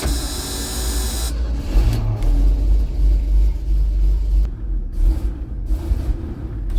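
Old Gertrude, a repaired vehicle at a sawmill shed, runs with a steady, loud low engine rumble that holds continuously close by, with no voices over it.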